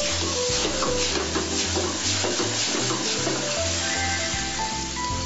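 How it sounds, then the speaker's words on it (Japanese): Potatoes, garlic scapes and Uyghur dried tomato stir-fried over high heat for laghman, giving a loud continuous sizzle with scraping stirs and a steady low hum beneath, no voices. "さらにじゃがいもやニンニクの芽、ウイグルのドライトマト、ショホラを加えて強火で炒めます"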